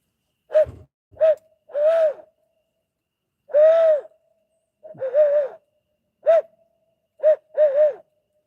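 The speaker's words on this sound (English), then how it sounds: "Let me call them some more here and see if we can get these owls to come in." Close, clear owl hoots in short groups of two and three, separated by silent pauses, with breathy edges on each call.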